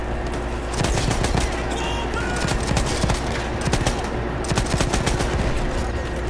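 Rapid bursts of gunfire in Battlefield 1 rattle on for several seconds, mixing machine-gun fire and individual shots at close to moderate distance.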